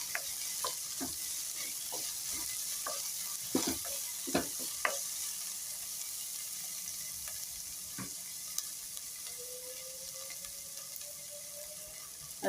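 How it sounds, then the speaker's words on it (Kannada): Cowpea and green gram sprouts fry in hot tempering, giving a soft, steady sizzle broken by a scatter of clicks and scrapes as they are stirred in the pan, with no voices. "ಒಗ್ಗರಣೆಯಲ್ಲೇ ಮೊಳಕೆ ಕಾಳನ್ನ ಫ್ರೈ ಮಾಡಿಬಿಟ್ರೆ ಅದು ಬೇಗ ಬೆಂದ್ಬಿಡುತ್ತೆ."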